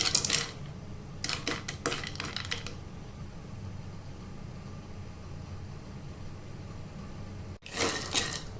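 A spoon stirs and scrapes roasted spices browning in a pan, in short clattering bursts near the start and again at the end, with a quiet steady stretch between.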